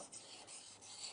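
A blade is rubbed back and forth by hand on a sharpening stone during freehand sharpening for a hand plane, giving a short, close, gritty scraping rasp with a few quick strokes.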